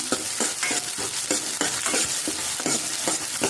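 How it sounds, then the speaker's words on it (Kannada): Onions and garlic frying in a pan, cooking until browned for tomato sambar: a steady, close sizzle with regular scraping strokes of stirring, loud and continuous with no talk. "ಸ್ವಲ್ಪ ಫ್ರೈ ಮಾಡ್ಕೊಳ್ಳೋಣ. ಈರುಳ್ಳಿ ಕೆಂಪಾಗ ಹಾಕಬೇಕು, ಅಲ್ಲಿವರೆಗೂ ಫ್ರೈ ಮಾಡ್ಕೊಳ್ಳಿ."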